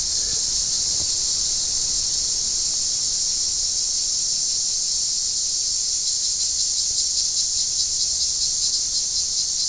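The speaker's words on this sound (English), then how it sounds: "no doubt there are cicadas in the hedge that is causing the interest" Cicadas buzzing in a garden hedge, a steady, loud, continuous high-pitched drone that holds without pause throughout, with no voices.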